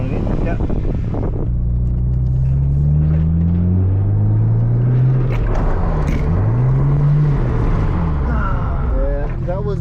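A drift car at a driving school in Australia slides with the handbrake up, its engine droning loud and steady with rising and falling revs, while voices talk over it.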